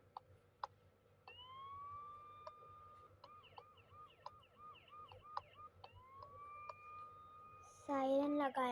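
Faint rising-and-falling electronic siren wails and whoops from a siren fitted on a car in the game My Town, with short clicks throughout and a louder burst of tones at the end.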